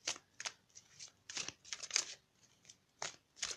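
Ascended-masters oracle cards being shuffled and drawn, heard as close, crisp riffling bursts in an uneven rhythm, about seven quick flurries separated by brief pauses.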